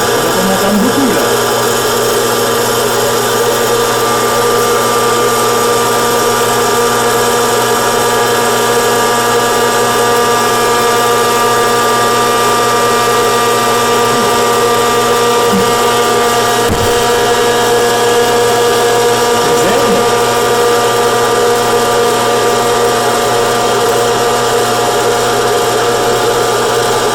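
A hot air popcorn maker runs steadily, a loud, constant whirring fan drone with a sustained mechanical hum and no pauses, with faint voice traces under the noise.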